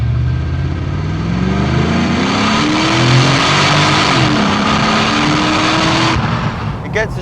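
Mercedes R129 500SL with the 5-litre M119 V8 accelerating hard on twisty lanes, its engine note rising steadily through the revs, loud and close, with wind and road roar throughout and a brief click near the end.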